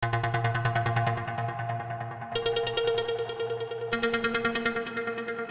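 A synthesizer plays short plucked notes in a steady, repeating pattern, bright and close, with the pitch shifting between phrases; no voices.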